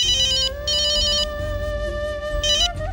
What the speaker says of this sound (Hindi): लो फोन आ गया उसका।